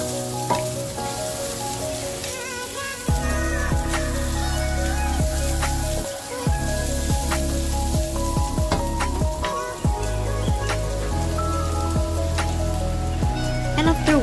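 Garlic, beef and lotus root fry in a pan, giving a loud, crackling sizzle with the scrape and clatter of stirring. The frying grows stronger after the first few seconds and keeps going steadily.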